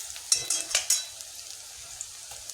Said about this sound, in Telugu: అల్లం వెల్లుల్లి పేస్ట్ వేసాక ఒకసారి వేపాలండి